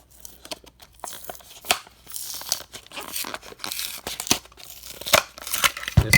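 Cardboard and plastic packaging of a toy Nissan Silvia S15 die-cast car being torn open by hand, with close, continuous ripping and crinkling bursts and no talking.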